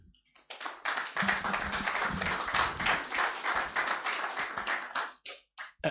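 An audience at a business energy conference breaks into a sustained round of clapping that builds quickly, holds dense and even for several seconds, then thins into a few scattered, isolated claps.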